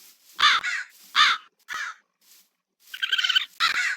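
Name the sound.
crow cawing in a Minecraft Create modpack video game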